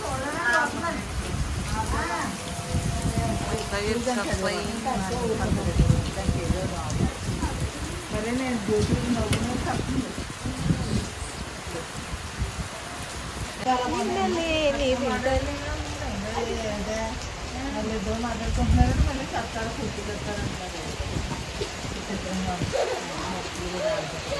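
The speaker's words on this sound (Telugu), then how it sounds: "మంచిగా వర్షం పడుతుంది" Steady rain falls throughout, a constant patter beneath people talking nearly the whole time.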